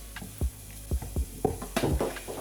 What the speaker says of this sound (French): Pendant que les oignons sont en train de sauter